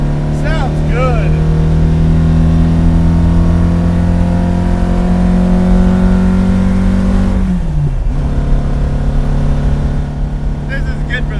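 Loud, close engine of a modified 1966 Alfa Romeo Giulia GT held at full throttle, the pitch climbing steadily for several seconds before a quick drop at a gear change, then pulling again.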